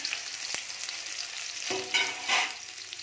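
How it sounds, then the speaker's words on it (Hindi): Onions with chilies frying in a pan, a steady soft sizzle with a sharp stir clack early and scraping bursts of stirring toward the end, close and alone without talk. "प्याज डाल लिए हैं और प्याज को अच्छे से भूंज लेंगे"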